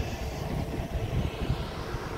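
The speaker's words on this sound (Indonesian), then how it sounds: "Lion Air yang lagi siap untuk take off" Lion Air airliner at Sultan Hasanuddin airport heard from a nearby hillside: a steady, distant low engine roar holding level throughout, with no voices.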